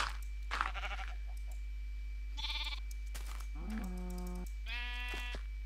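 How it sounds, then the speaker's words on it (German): Minecraft sheep bleat in the game, several short nasal baa calls spaced across a quiet moment, some thin and distant, others fuller and closer, with faint clicking underneath. "Dumme Schafe."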